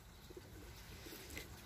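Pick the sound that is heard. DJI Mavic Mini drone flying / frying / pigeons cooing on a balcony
pigeons cooing on a balcony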